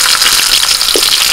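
Diced onion hits hot oil with already-fried chopped garlic and ginger, a bright steady sizzle and crackle with a soft stir partway through.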